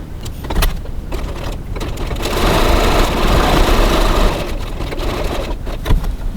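Sewing machine stitching fabric for a cross-body bag, a steady mechanical whirr that builds and runs continuously for several seconds, close and fairly loud, with soft handling clicks around it.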